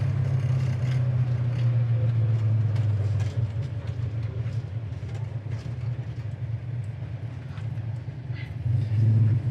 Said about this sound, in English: Downshift's really nice in the third. Down to second.